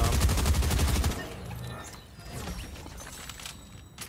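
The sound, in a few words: gunshots in a video game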